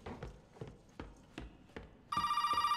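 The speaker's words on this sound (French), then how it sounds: "Oh, encore le téléphone" A telephone rings in the Resident Evil 7 video game, a loud, bright electronic trill that cuts in abruptly after a series of footsteps and continues pulsing steadily to the end.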